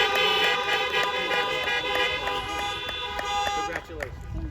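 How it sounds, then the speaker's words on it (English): Car horns honk in long sustained blasts, several overlapping tones sounding together at a 2021 college commencement outdoors, loud and close before tapering off near the end. "give her another honk, please"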